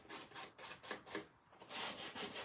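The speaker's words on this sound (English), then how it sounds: "This nail file works pretty good." A nail file rubs back and forth along the cut edges of scrapbook paper to remove loose fibers, a close, steady scratchy rasping in repeated strokes with no talking.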